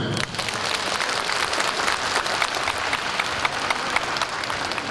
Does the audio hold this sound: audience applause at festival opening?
yes